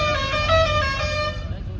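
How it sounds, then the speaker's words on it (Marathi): A loud, steady bus horn blares for over a second, a long brassy honk with a faint rumble of traffic underneath. "हॉर्न तर फुल भारी आहे"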